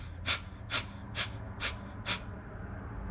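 Kapalabhati breathwork: five sharp, forceful nasal exhales snapping the navel in, evenly spaced about half a second apart, each a short hissing burst with quiet passive inhales between, close and alone.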